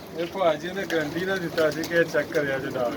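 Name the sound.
pigeons cooing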